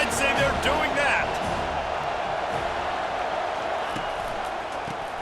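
Stadium crowd at a TCU vs FSU college football game roars in a loud, steady wash of cheering, with a few sharp bursts near the start before settling into sustained crowd noise.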